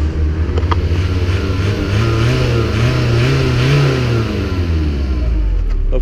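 A 1998 Audi A3 1.9 TDI diesel engine revving up and settling back, a loud, close, steady drone with rising and falling pitch throughout, no voices.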